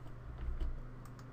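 Computer keyboard keys tapped in a short, quiet burst of a few clicks at close range, no voice over them.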